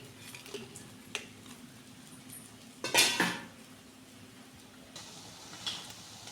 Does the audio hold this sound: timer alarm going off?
no